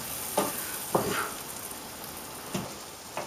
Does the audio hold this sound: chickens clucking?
no